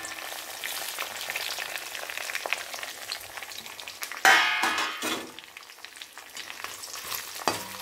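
Red chilies frying in hot oil for pulikachal, a continuous crackling sizzle with a metallic clang and stirring scrapes midway.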